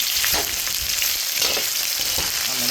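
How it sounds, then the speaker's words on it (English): Sliced garlic frying in hot oil gives a steady, close sizzle with a few soft stirring scrapes, and no voices are heard. "cook them down a little bit, fry them down a little bit"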